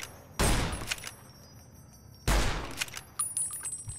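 Two loud, sharp gunshots in Fallout New Vegas, fired at ghouls about two seconds apart, each followed by clattering echoes and smaller impact sounds over a quiet background.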